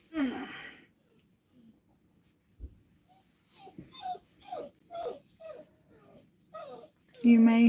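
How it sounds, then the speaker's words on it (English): A dog whimpers and whines in a series of short, high, nasal cries at a close distance, coming in repeated bursts between brief quiet gaps, with a voice talking at the start and end. "You may hear in the background my lovely dog."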